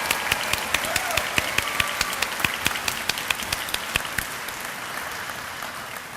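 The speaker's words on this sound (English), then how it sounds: "Would you please join me in giving a round of applause to these new leaders of America?" A commencement audience applauds the graduating class of 2017, dense sustained clapping from a large crowd that continues steadily throughout.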